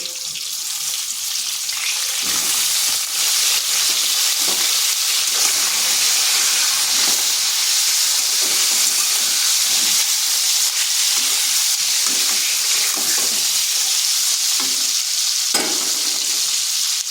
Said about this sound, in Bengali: পটলগুলো এইভাবে আগে 2 থেকে 3 মিনিট একটু ভেজে নিচ্ছি।